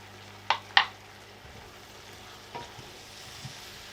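Flour being stirred into sweated vegetables in a pan, a soft sizzle under two sharp clicks of a utensil against the pan, then quieter scraping and stirring sounds.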